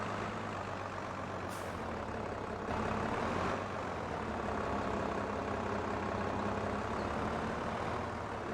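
Tractor engine in the video game Farming Simulator 22, a steady low, quiet idling drone with no voices.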